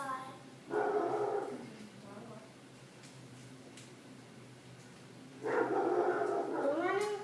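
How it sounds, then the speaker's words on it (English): A dog barks and yips indoors at people running around outside, two short bursts of barking separated by a few seconds of quieter background, loud and close. "What are you barking at?"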